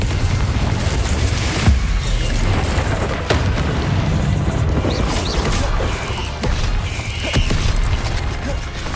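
Blasting-spell explosions and combat effects from Hogwarts Legacy in a hidden dungeon, loud and dense with repeated booms and crashes over a continuous rumbling game soundtrack.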